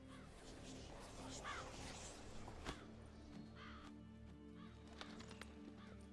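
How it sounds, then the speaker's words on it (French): A crow caws in The Witcher 3, its calls rising a few times over a steady ambient game soundscape with horse-like sounds and hoof clops mixed in. "Un corbeau. Très commun sous cette latitude et très intelligent."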